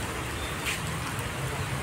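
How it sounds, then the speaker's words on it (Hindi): Steady rain falls outside a ground-floor administration area at Campus Law Centre, Delhi University, a constant close hiss of drops with no speech over it. "बारिश हो रही है, मैं बाहर नहीं जा सकता।"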